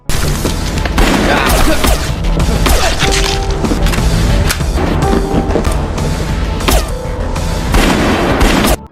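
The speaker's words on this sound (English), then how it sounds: "Gang, who managed to infiltrate the mansion, then got into a shootout with Yuri's men, who attacked him simultaneously." Gunfire in a shootout inside a mansion, with loud repeated shots and booms in dense, continuous bursts over about nine seconds, close and sustained throughout.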